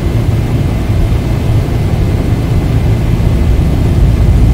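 Airliner engines spool up for takeoff on runway 27 left at Cancun in a flight simulator, a loud, steady low rumble and broad jet roar holding constant throughout with no talk over it.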